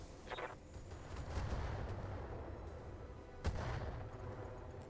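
Mech weapons firing in the modded Battletech (RogueTech) strategy game, a rumbling barrage of heavy gunfire with one sharp loud impact near the end and a few faint electronic beeps.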